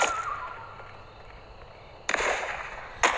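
Two sharp, loud sniper rifle shots from a western sniper video game crack out about a second apart over a quiet hum, each with a brief echoing tail.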